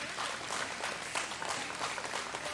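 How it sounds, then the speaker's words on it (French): Audience applause at an anime convention panel on dubbing, a steady even wash of clapping held for a couple of seconds at moderate distance with no voices over it. "Merci, applaudissements s'il vous plaît."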